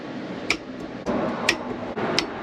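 Sharp, faint clicks of a torque wrench tightening supercharger damper bolts on a Kawasaki Ultra 300, three crisp clicks spaced about a second apart over quiet shop background.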